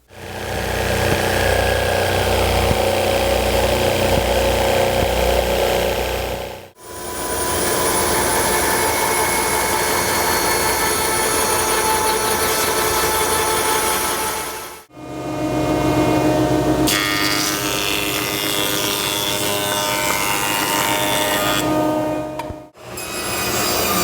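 Lumber being ripped into 2 by 2 squares on a power saw for an assembly table build, loud and continuous in three long passes with brief breaks between cuts, no talking.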